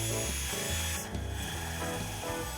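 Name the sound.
drill driving a screw into picnic table legs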